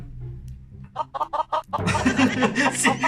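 A brief rooster crow from the game Mini World: Block Art rises over a choppy clucking buildup, loud and close, with a game-like electronic quality.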